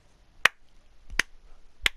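Three sharp, widely spaced claps ring out in a slow, sarcastic rhythm from a wrestler in the WWE 2K19 video game, each a crisp isolated crack with quiet between them.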